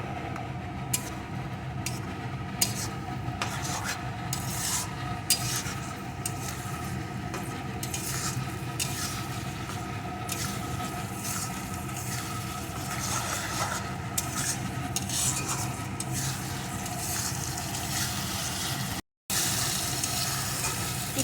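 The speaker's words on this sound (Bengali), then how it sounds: "এখন মোচাটা সুন্দর করে সব কিছুর সাথে এইভাবে নাড়তে থাকবো" Banana flower (mocha) stirred with spices in a pan, a steady close sizzle of frying under repeated scraping and clinking of a utensil against the pan, continuing throughout with a brief silent gap near the end.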